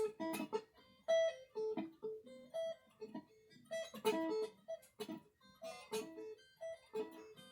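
Quick sweep-picked guitar arpeggios across the strings, fretting pressure gradually eased so notes sound thin and partly muted, played in short repeated bursts at a low volume.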